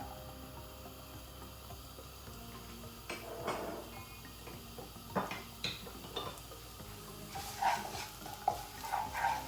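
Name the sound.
frying chopped ginger, garlic and onion in a pan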